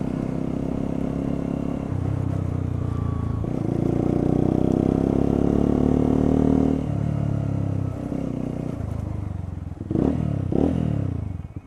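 A motorcycle engine drones and revs while riding, rising and falling in pitch with wind rush, rattles and a clunk of gear changes near the end.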